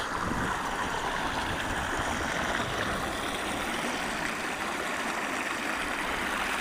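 Water from recent heavy rain runs steadily in a stream through the Lincolnshire Wolds, draining toward the River Bain, a continuous broadband rushing that stays even and close throughout, with no voices.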